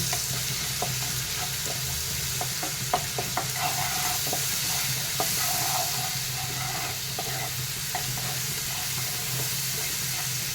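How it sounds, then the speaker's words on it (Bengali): Chili powder and spices fry for a bhola fish curry, with a loud, continuous hiss and sizzle of hot oil and light scraping stir strokes throughout, close and steady, with no speech. "এরপরে দিয়ে দেবো সামান্য একটু লঙ্কা গুঁড়ি দিয়ে খুব ভালো করে কষিয়ে নেব"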